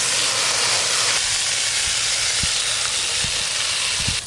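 Vegetables frying in a pan, a loud, steady close sizzle and hiss with a few soft clicks and taps, no voices.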